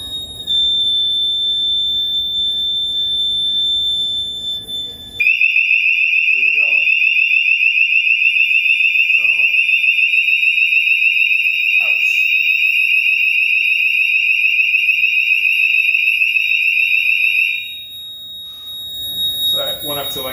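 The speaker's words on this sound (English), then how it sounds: "so now it's dropping back down, the alarm goes off" A CO2 sensor alarm sounds a loud, piercing electronic tone that starts abruptly and holds steady for about twelve seconds before cutting off, with quieter background noise before and after.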